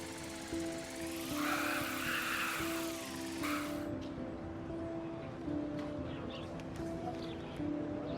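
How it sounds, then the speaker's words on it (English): A small drone in the game Life is Strange whirs loudly with a buzzing propeller tone for a few seconds, then cuts off, leaving faint ambience and steady low hum. "Here, give the drone a whirl around campus."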